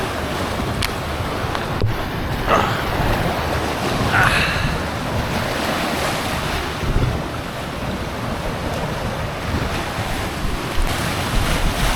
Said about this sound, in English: the big wave coming